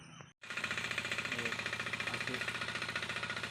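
Tractor engine working in a wet paddy field during rice planting, a rapid steady chugging knock heard close by after a brief pause, with a voice speaking over it.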